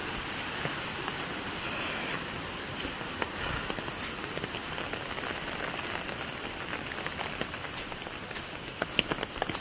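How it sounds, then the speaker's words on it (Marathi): Heavy monsoon rain falling on a village during flooding, a dense steady hiss of drops on surfaces at moderate level, with occasional sharper splashes and no talking. "आज भयंकरच पाऊस आहे।"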